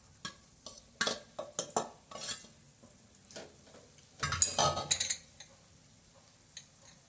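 Flattened rice (poha) is tipped into a pan and stirred with a utensil, giving soft, intermittent scraping and light sizzling scrapes in short bursts, with a busier cluster of stirring near the end.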